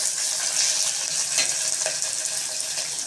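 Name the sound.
green chillies sautéing in pan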